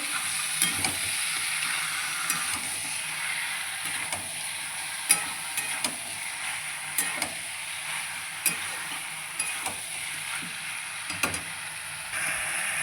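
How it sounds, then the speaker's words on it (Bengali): Meat being stir-fried in a pan, a steady close sizzle with periodic scraping and clinking of a spatula against the pan in an irregular rhythm, no talking. "এখন ভালো করে কষাচ্ছি যত কষাবো তত খেতে টেস্টি লাগবে"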